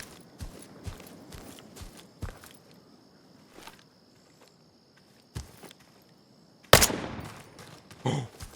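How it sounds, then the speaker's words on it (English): Enemy gunfire in a tactical PVE extraction shooter game: a run of short sharp shots spaced through the opening seconds, a quiet stretch, then a louder burst of fire near the end. "Enemy fire!"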